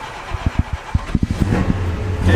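A clapped-out Ford F250 truck engine runs loud and close: uneven chugging pulses build into a steady, heavy rumble.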